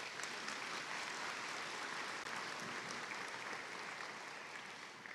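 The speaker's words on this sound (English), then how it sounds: "Let's give them a round of applause." Steady audience applause fills a ceremony hall, a dense and even wash of many hands clapping that holds for about five seconds before tapering slightly at the end.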